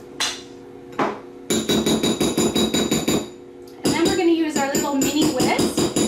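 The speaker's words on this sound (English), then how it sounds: "Mini whisk to get it all blended together" A mini whisk blending sauce mix in a bowl, rapid metallic clicking and tapping against the bowl in bursts separated by short pauses, close and fairly loud.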